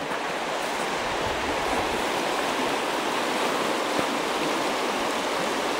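Steady broadband rush of the River Dee in Scotland flowing with floating sheets of ice, continuous and fairly loud throughout, with no voices or other distinct sounds.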